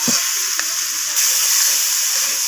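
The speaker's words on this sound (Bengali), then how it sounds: "মটরশুঁটিটাকেও আমি কষিয়ে নিচ্ছি সব কিছুর সাথে।" Vegetables and green peas sautéing in a pan give off a steady, bright sizzle, close and even, with a couple of faint knocks of stirring near the start.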